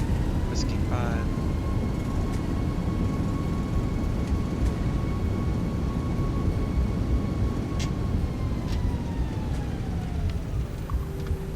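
Simulated Airbus A340-600 thrust reversers roaring after landing in X-Plane 11, a loud steady broadband engine rush lasting throughout, with a high whine slowly falling in pitch near the end as the jet decelerates.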